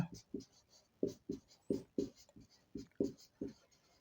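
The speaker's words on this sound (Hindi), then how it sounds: "इसी चीज को यहां लिख लेते हैं।" Marker or chalk writing on a board during a biology lesson, a run of close, rhythmic scratchy strokes and taps, about a dozen quick marks.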